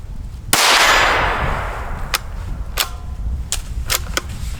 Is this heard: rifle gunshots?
yes